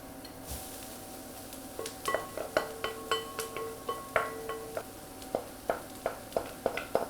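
Mushrooms tipped into a pan of mirepoix for a mushroom bolognese ragu, a run of sharp clinks and knocks of utensils against the pan, steady and close, with no talking.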